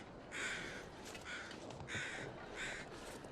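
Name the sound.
crows cawing in The Long Dark video game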